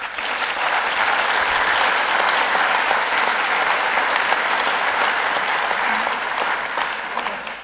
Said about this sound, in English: I ask an applause for them, please